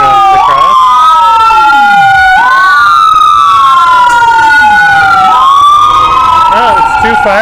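Emergency vehicle sirens, an ambulance and two fire trucks crossing a city street intersection, wail loudly and continuously nearby, their rising and falling tones overlapping and sweeping throughout.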